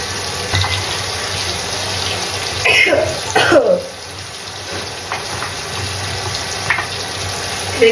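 Drinking water poured into a pot of rice for cooking, a close gushing pour that swells and trails off, with a cough in between.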